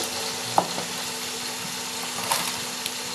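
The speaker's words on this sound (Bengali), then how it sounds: "এবার এটাকে ভালো করে ভেজে নিতে হবে" Ginger-garlic paste with coriander powder and other spices sizzles steadily in a pan for a home-style Bengali chicken kosha curry, with a few sharper stirring scrapes cutting through the constant hiss.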